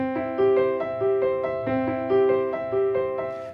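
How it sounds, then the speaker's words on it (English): Piano plays the opening of Bach's Prelude No. 1 in C as evenly flowing broken chords. Each chord repeats its rippling figure in a steady rhythm, close and clear, with no voices. "Just like in Bach's Prelude number 1 in C, the one that sounds like this."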